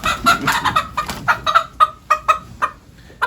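A chicken clucks repeatedly in short, close bursts, a steady run of agitated clucks with no other sounds.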